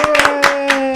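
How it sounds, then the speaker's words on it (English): A handful of close hand claps, about five or six sharp, uneven smacks over a second, with a steady tone humming underneath. "Now, I'm really clapping not so much for me, but for her for putting up for me."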